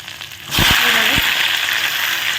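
Dried red chillies, broken by hand, drop into hot oil and burst into a loud, sharp sizzle after a brief quieter lead-in, with a few pops and crackles before settling into a steady hiss.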